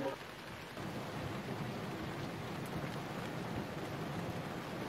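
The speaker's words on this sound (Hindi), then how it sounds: "ये बारिश कितनी तेज हो रही है।" Heavy rain pours in a steady, dense hiss that fills the scene without a break, loud and even throughout with no voices over it.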